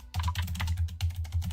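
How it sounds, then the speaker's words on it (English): Rapid, steady typing on a computer keyboard, a dense run of close clicking keystrokes with a brief pause partway through, with no voices. "It sounded like you're like keyboard mashing into Google."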